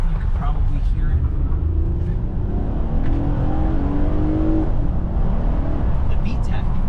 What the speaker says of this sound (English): The VTEC, it's so fun.